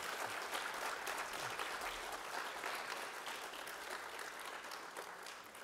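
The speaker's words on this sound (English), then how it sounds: "Let's give them a big round of applause" Audience applause closing out a mayoral candidate debate on quality of life, a steady, dense wash of many hands clapping that holds at an even level for several seconds with no talk over it.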